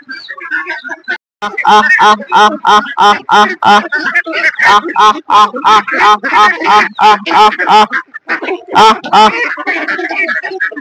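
Domestic ducks quacking loudly and repeatedly, a dense run of harsh nasal calls close by, with brief pauses between bursts.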